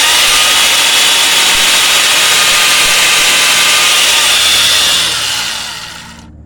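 Hitachi hollow-chisel mortiser plunging into wood, a loud, close, continuous grinding roar of motor and cutting chisel that holds steady for several seconds before dying away at the end.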